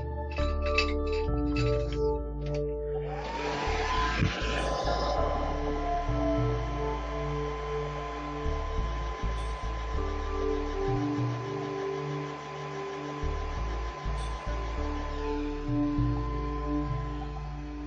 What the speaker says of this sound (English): hit that with the dryer